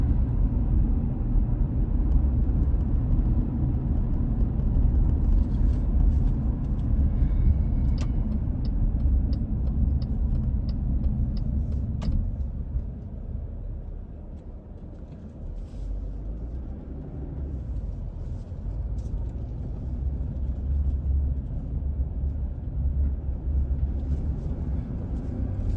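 A car drives along a road between Gray and Blountville, Tennessee, near the Tri-Cities Airport, with a steady low engine and tire rumble heard from inside the cabin, dipping briefly midway and then steadying again, with no talking.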